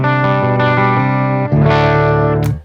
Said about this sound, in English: I'm playing on a plexi type amp, which sounds like this.